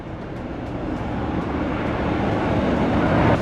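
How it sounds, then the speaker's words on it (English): An American Airlines Boeing 737-800 taking off from Tampa, its jet engines making a broad roaring rumble that builds steadily in loudness, with wind buffeting at the microphone. "An American Airlines Boeing 737-800 loses a tire while taking off from Tampa"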